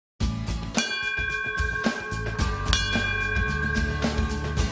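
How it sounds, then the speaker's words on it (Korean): A school class bell at a farming college rings loud and close, a steady electric tone sustained throughout with repeated metallic strikes layered over it. "수업종이 울리고 오늘의 일정이 시작됐습니다."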